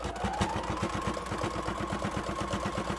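A sewing machine stitches a fleece bumblebee, its needle hammering in a steady, rapid rhythm that runs continuously and evenly from start to finish, close and moderately loud.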